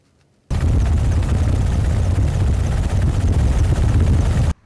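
A border guard helicopter of the regional coast guard flies on patrol over the Caspian coast, its loud, steady rotor and engine roar starting abruptly and holding constant, close and alone.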